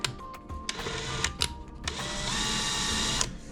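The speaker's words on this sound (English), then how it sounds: "I just take my screwdriver, yeah, my DeWalt power drill." A DeWalt power drill drives a screw into a bench vise at a jewelry stone-setting bench, giving a steady whirring motor whine that shifts pitch partway through, with a few sharp clicks near the start.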